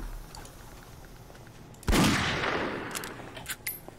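A single loud gunshot or blast in the zombie game 7 Days To Die, a sharp close crack with a decaying tail, followed by a few fainter knocks.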